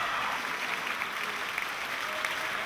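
High school students give steady, dense applause with faint cheering as fourteen visiting students and a teacher from a Japanese commercial high school arrive at a school in Yeosu, South Korea.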